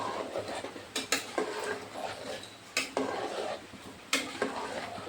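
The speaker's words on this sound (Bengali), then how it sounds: "এখন এগুলোকে জল আর খিচুড়িটা আগে মিশিয়ে নিচ্ছি" Khichuri being stirred with hot water in a metal pot: a spoon scrapes and knocks against the pot in several distinct clanks amid continuous soft sloshing, close and clear.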